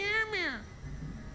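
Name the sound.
cat meowing in video game Vampire: The Masquerade Bloodlines 2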